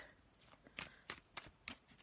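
Tarot cards are riffled and shuffled in quick bursts, a crisp fluttering that repeats several times up close.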